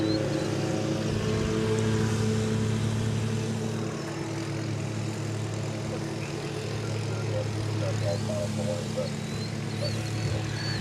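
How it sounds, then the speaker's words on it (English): Frontier Airlines Airbus A321 arriving at DFW Airport, a broad steady jet roar at moderate distance that holds throughout, with faint background bustle. "Here comes Frontier Flight 2675 from Miami, Florida. Hey, about a minute. It's an Airbus A321"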